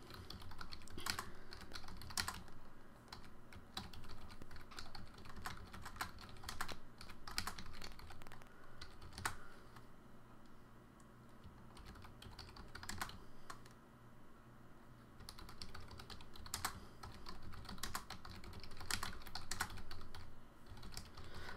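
Steady, fairly quiet typing on a computer keyboard, with rapid irregular key clicks running throughout and brief pauses, heard alone with no talking.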